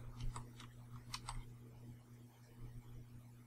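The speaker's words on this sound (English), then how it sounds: "Wait, I hear ticking, I think." Faint ticking in the zombie video game No More Room in Hell, a few soft, sharp clicks scattered over a low steady hum, quiet and sparse with no talking.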